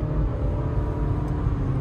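Honda City 2025 engine revving in S mode with simulated gears, a steady low droning rumble held at high revs, fairly loud and continuous, no talking.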